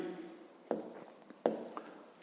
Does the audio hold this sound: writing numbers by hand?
yes